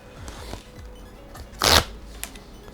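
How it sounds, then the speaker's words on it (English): Crinkly packaging torn open around an SD card, a sharp loud rustling burst mid-clip among faint handling clicks and rustles, no talk. "Let's open up the SD card as well."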